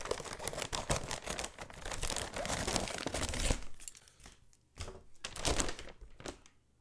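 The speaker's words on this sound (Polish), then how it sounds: "Noża nie ma, ale są nożyczki, więc otwórzmy z tej strony." Crinkling and rustling of a wind turbine's packaging being handled and cut with scissors, with a dense burst of crackles followed by a few sharper snips and quieter rustles.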